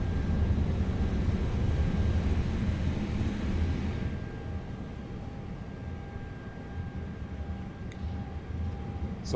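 A blower and extractor run with a steady broadband whoosh and low rumble, loud at first and then easing to a lower, quieter hiss that continues to the end, with no talk.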